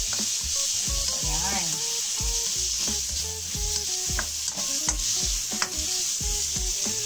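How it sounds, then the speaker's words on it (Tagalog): Onions sizzle and fry in margarine in a pan for a Filipino tofu dish, a steady loud crackle throughout with scraping stir strokes and utensil clinks, while someone talks over it. "Lalagyan natin ng sibuyas."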